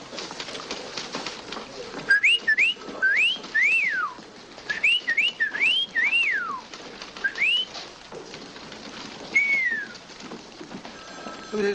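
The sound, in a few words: whistled imitation of a bird call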